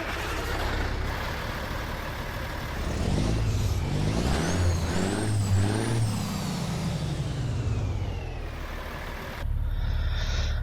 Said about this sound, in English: I actually really like the sound effect on this truck.